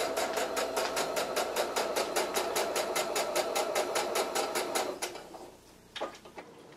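A sewing machine runs at a fast, steady stitching rhythm for about five seconds, then stops, leaving a few faint clicks and handling sounds nearby.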